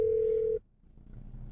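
A steady telephone dial tone holds loud and alone for about half a second at the start of a recorded phone call, then cuts off into quiet line hiss.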